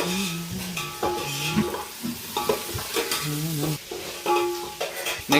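Ginger garlic paste and pulao spices frying in onions in a pan, sizzling steadily while a spoon stirs and scrapes in repeated strokes, close and loud with no talk.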